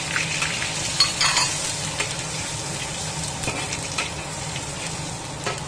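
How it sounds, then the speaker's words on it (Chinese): Chopped garlic and chili stir-fried in a hot wok, a dense continuous sizzle broken by scraping spatula strokes and occasional clanks, close and fairly loud with no talking. "把它炒香"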